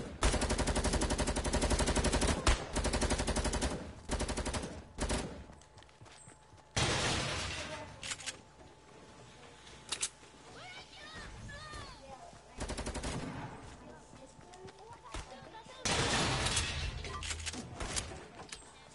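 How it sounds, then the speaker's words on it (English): Rapid bursts of gunfire crackle through a Fortnite match, with repeated loud volleys separated by brief pauses and a steady game background hum underneath. "But I hear somebody shooting."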